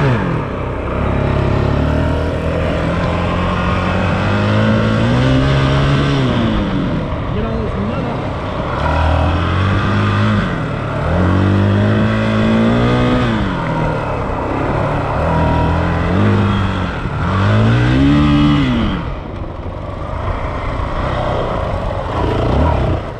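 Off-road vehicles ride at Village Creek, with a loud, steady engine drone that rises and falls through repeated revs and gear changes, close and continuous throughout.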